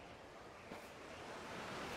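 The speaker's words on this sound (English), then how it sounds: "Hey, it's still windy." Steady wind and surf at a beach in the video game Infinite Wealth, a continuous broadband wash that swells slightly louder toward the end, heard alone without talk.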